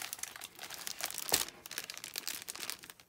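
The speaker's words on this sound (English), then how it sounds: "Sorry for the crinkling." Plastic packaging crinkles and crackles while holiday items for Halloween and Christmas are unboxed from a warehouse box, with dense, irregular rustling bursts close up and one sharper crunch near the middle.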